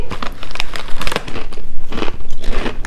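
Crunchy barbecue-flavoured American snack food being bitten and chewed close up, with repeated crisp crackling crunches in quick bursts throughout and no talk.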